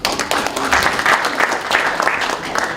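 An audience at an economic forum applauds to welcome a guest, with dense, lively clapping in loud rippling bursts throughout and a voice faintly heard underneath.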